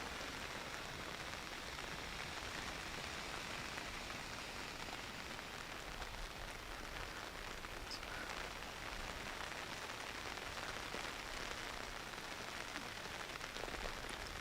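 Steady rain falls on a croquet lawn during a European golf croquet championship final, a faint, even patter of drops that continues unbroken and with no talking.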